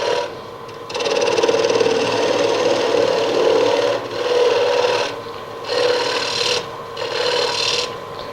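Lathe tool cutting a concave surface into a birch root burl with voids and natural edges, a steady scraping rasp that runs in sustained passes with brief pauses between them, close and fairly loud with no voices.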